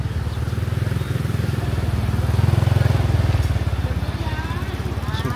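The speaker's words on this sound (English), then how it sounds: "we've got a motorbike coming behind us." A motorbike engine idles and putters steadily close behind on a street in Patong Beach, Phuket, its pulsing low throb swelling slightly louder midway before easing, over faint street ambience.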